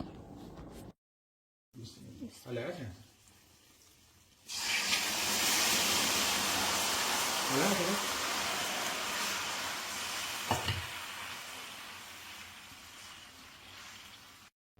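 Halwa being browned in a pan, a steady loud hiss of frying that starts abruptly after a few soft scrapes and murmurs, with occasional stirring clinks, close and continuous to the end.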